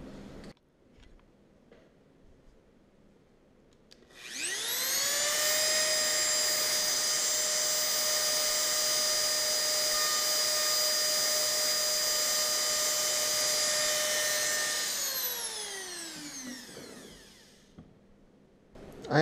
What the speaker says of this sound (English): I have a strong preference to never turn the Dremel on or off while I'm in the cut, while I'm in the pocket.